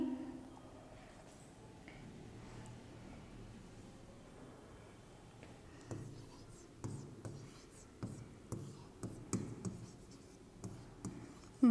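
Pen or chalk writing out a probability maths solution by hand, faint scratchy strokes that grow into quick irregular taps and scrapes, with soft murmured speech early on.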